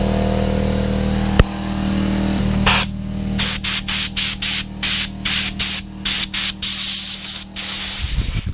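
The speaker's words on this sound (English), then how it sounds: "Sorry for the noise compressors on." An air compressor runs in a car body shop, first as a steady droning hum, then in a series of sharp hissing bursts of air that start and stop in an irregular rhythm, loud and close.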